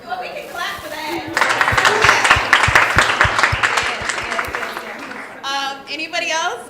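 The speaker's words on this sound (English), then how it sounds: "Well, we can clap for that." Audience clapping during a group conversation, sharp rhythmic claps building into applause with voices talking over it before and after.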